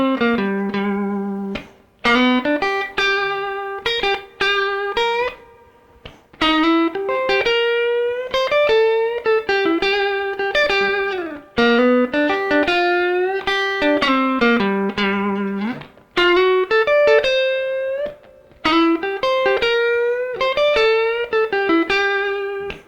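An overdriven electric guitar plays flowing blues chord arpeggios of sustained, ringing notes, moving through chord tones in a steady phrase with brief pauses.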